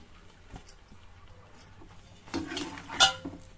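A spoon stirs kuzhi paniyaram into masala in a pan, giving a few soft scrapes and then a louder clatter of metal against the pan near the end, close and otherwise quiet.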